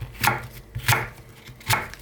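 Three crisp knife chops through vegetables on a cutting board, evenly spaced about two-thirds of a second apart, close and fairly loud with no talking.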